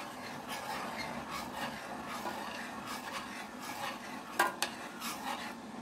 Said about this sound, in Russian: Маринад наш закипел.